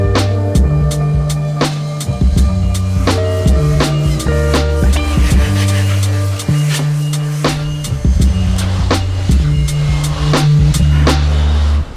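Construction trades work on a 90-foot yacht under build: heavy rhythmic pounding, banging and tool noise, with overlapping sharp impacts continuing steadily and loud throughout.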